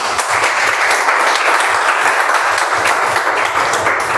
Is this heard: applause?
yes